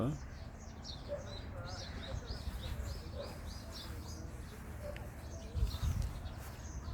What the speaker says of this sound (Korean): 새들이 노래를 부르고 있습니다